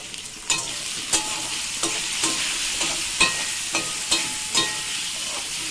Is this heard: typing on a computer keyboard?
no